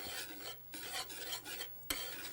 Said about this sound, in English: You just want to stir until the cheese is melted.